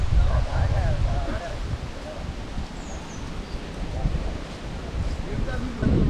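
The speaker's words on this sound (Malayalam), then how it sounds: "ഈ സൈഡ് എപ്പോഴും നല്ല കാറ്റ് വരുന്നുള്ള സ്പേസാണ് കേട്ടോ. നല്ല കാറ്റുണ്ട്." Wind gusts rush and rumble across the microphone at a riverside viewpoint at Kava, a steady close buffeting that swells near the end, with faint voices in the background.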